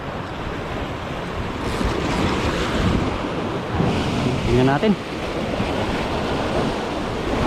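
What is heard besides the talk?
rough ocean waves on an island shore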